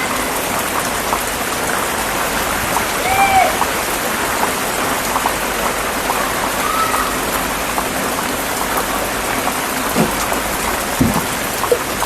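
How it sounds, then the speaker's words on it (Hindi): Heavy rain pours down in a steady, loud, dense hiss of drops throughout, with an occasional faint dull knock and no talking. "जिस तरह बारिश देख रहे हो"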